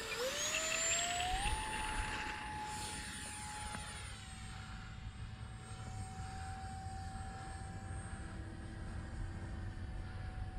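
A Value Hobby Dolphin 40-inch EDF model jet trainer flying on a 4S battery, its ducted fan whining up in pitch then holding a steady high tone with a sweeping Doppler shift as it passes and recedes.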